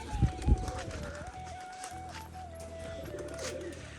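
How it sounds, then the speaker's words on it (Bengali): Domestic Rajshahi pigeons gathered close by give a soft, sustained cooing that drifts in pitch. A couple of dull thumps and fluttering sounds come at the start. "দেখুন পায়রাগুলো কিন্তু সব এখানে চলে এসছে।"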